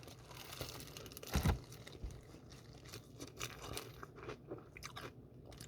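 Close chewing of crunchy BHC Ppuringkle fried chicken, with loud crisp crunches of the coated skin and a strong bite burst near the middle, followed by softer steady mastication and crinkling, no talking.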